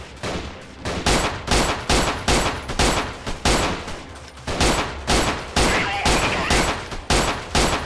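Rapid gunfire in the Freeman: Guerrilla Warfare video game: a loud, close series of sharp shots in bursts, about a dozen evenly spaced cracks with short gaps between them.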